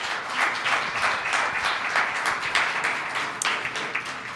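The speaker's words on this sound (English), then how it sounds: "Let's give Tom a round of applause." Steady applause from an audience fills the room at a community coalition meeting, dense clapping held at an even level from start to finish with no voices over it.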